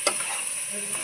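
Shrimp malai curry masala sprinkled with biryani spice is stirred in a hot pan, giving a soft continuous sizzle with a few faint scrapes over about a second, quiet and unaccompanied by speech.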